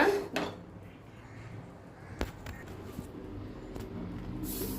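Dosa is made on a pan in a home kitchen, with a few sharp metallic clinks and scrapes of utensils close by, then a building sizzling hiss toward the end.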